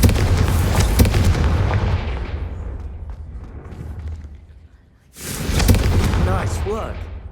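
A Confringo spell in Hogwarts Legacy blasts candelabras with heavy, rumbling booms. A loud burst fades over several seconds, then a second blast erupts, with voices talking alongside.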